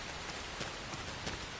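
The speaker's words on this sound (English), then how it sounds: "We're getting rained on for the sake of the plot" Rain falls in the video game Xenoblade Chronicles X as a dense, steady hiss of drops striking a surface, with faint irregular patters and nothing else over it.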